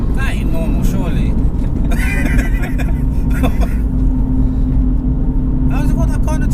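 BMW M2 GTS Evolve project car with a 430bhp engine pulling hard in third gear, a loud sustained low rumble throughout with voices talking over it at several points.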